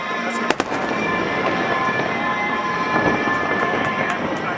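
Fireworks bursting over Lake Union at night, with a sharp crack near the start followed by a sustained rumble of distant explosions and crackle.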